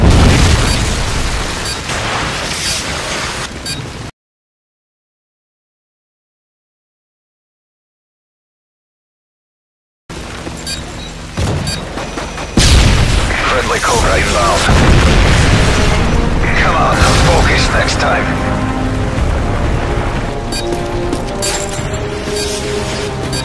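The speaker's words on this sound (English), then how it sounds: "Friendly Predator missile inbound." A Predator missile strike explodes in Modern Warfare 3 with loud, heavy booming and rumbling that break off into silence, then resume as a sustained roar of blasts and crashing debris.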